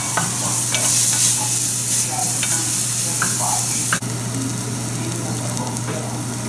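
Food cooking in a pan, a loud, continuous close-up sizzle with occasional stirring scrapes and a steady hum beneath, no voice over it.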